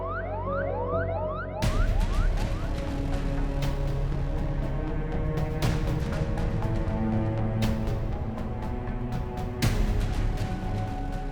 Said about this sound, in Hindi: एम्बुलेंस आ गई है।